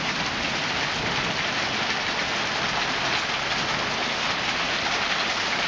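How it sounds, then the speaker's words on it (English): A hailstorm in Indianapolis pelts down in a dense, steady, loud hiss of impacts on surfaces around a house, continuous throughout with no voices. "it's the first time documenting a hail storm in my house region, or Indianapolis"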